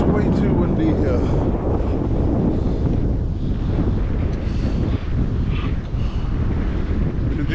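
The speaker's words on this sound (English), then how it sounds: "So it's way too windy here." Strong wind on seaside rocks buffets the microphone in a steady, heavy roar that continues throughout, with faint water sounds and a voice now and then beneath it.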